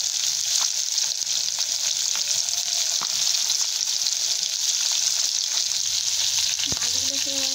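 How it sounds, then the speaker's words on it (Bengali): Soft fish fry in hot oil in a pan with a constant close crackling sizzle, steady and fairly loud throughout, broken by a few light clicks of a utensil near the end. "ভালো করে ভেজে নেব আমরা ফাঁকা করে মাছগুলোকে।"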